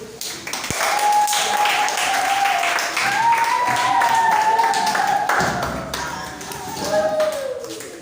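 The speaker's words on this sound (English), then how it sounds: "A round of applause once again" An audience at a presentation on farmers and market transport claps in a steady, continuous round of applause, with a sustained tone humming over the clapping throughout.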